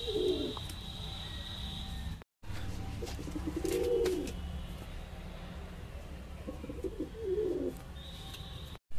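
Soft, low pigeon coos recur a few times outside a pigeon loft against a steady background hum, with faint chirps overhead.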